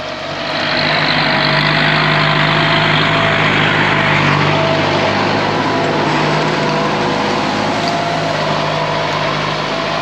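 A tractor plows through a banana grove, its engine roaring loud and close in a steady, unbroken drone with no talk.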